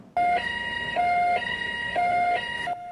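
Emergency vehicle siren at the scene of a fatal multi-car crash on a road in Mingjian Township, Nantou County, Taiwan: a loud, close, repeating two-tone wail that alternates steadily high and low, heard alone.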